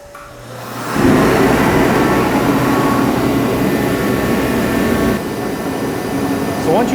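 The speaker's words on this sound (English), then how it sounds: "So once you turn on that on switch, the heater pretty much kicks on instantly." A diesel/kerosene forced-air heater starts up in a 22x24 garage, kicking on abruptly into a loud, steady roaring blow that drops slightly in level later on.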